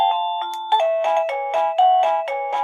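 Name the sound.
TeckNet wireless doorbell playing a chime tune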